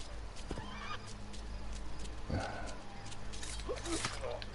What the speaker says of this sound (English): You're stuck on a horse